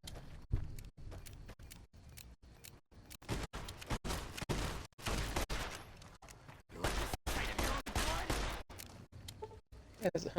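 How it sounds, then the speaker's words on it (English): Distant machine gun fire in Fallout New Vegas, with rapid bursts of sharp cracks and pops in uneven clusters throughout, fairly quiet and without talk over it. "Sounds like machine gun fire in the distance."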